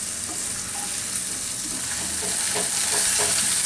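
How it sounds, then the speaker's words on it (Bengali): A spice mixture with turmeric and salt sautés in a pan over raised heat, giving a steady, fairly loud sizzle with soft stirring scrapes throughout and no talking. "কষায় নিই এটাকে ভালো মতো।"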